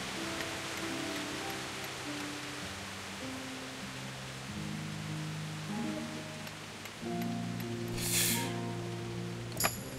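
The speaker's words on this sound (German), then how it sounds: "Der Regen ist so laut, das würde man gar nicht bis rüber hören." Heavy rain in Kingdom Come: Deliverance hissing as a dense, continuous wash, with soft game music tones underneath and a brief sharper splash near the end.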